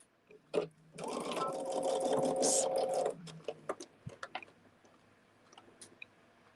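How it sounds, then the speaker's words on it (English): A sewing machine chain-sews quilt blocks together in one loud, close run of about two seconds, followed by scattered small clicks and handling taps as the fabric is moved. "what I'll end up doing is chain sew sewing these together"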